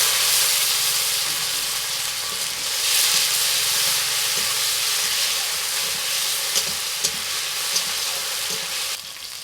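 A ginger, green chilli and black pepper paste fries in a pan for a village-style festive khichuri, giving a steady, bright sizzle with a few small pops and stirring sounds, close up and without voices.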